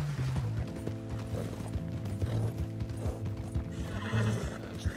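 Red Dead Redemption 2 game audio: a horse whinnies loudly over a busy clip-clop of hooves, mixed with mechanical rattling of a wagon, all near and dense.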